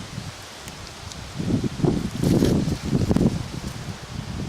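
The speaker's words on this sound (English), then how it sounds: "Sorry about the wind." Wind gusts through a garden of perennials and herbs, rustling leaves and buffeting the microphone in swelling surges after a calmer start.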